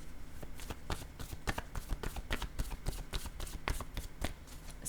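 Tarot cards shuffled by hand, a rapid run of crisp riffling flutters and soft slaps repeating steadily at close range, with no voices over it.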